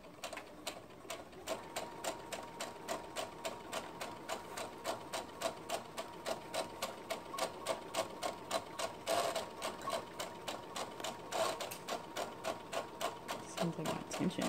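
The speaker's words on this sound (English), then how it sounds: "just sew around the curve, nice and easy" Sewing machine with slightly off tension stitching a skirt to a bodice around a curve, running in a long series of short, even bursts of rapid clatter, close and clear, with a voice speaking now and then.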